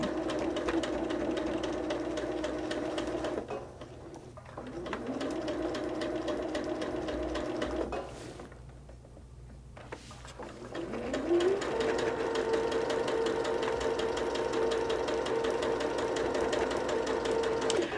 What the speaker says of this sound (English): we're going to be sewing right up at that area in just a minute